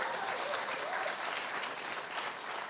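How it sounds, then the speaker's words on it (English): An audience at a civic engagement event gives sustained applause, a dense, steady roar of many hands clapping together with no talking. "You can applaud again."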